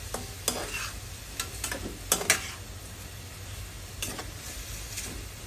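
Pork stir-fried with eggplant in a pan, a moderate sizzle broken by repeated scraping strokes of a spatula against the pan at an uneven rhythm.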